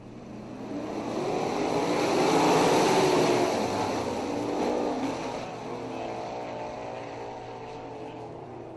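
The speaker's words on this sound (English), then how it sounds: "Derek Jonathan to the outside will come back to the green flag, this time by an Insta Insulation Heat Race number 2" Several 360 sprint cars race in a dirt-track heat race, a loud blended engine roar that swells to a peak mid-clip and then eases to a steady drone, with no talk over it.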